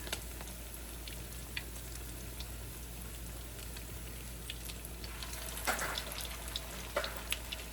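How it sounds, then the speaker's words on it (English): Salmon croquettes frying in a pan, a quiet, steady sizzle with scattered pops and a few louder crackles near the end, heard alone without talk. "Fry these up nice and crispy."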